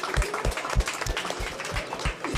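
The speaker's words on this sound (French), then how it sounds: "on peut les applaudir encore une fois" Applause from a school audience for collège students after a presentation on an AI week, steady rhythmic clapping that carries through the whole moment with no talking over it.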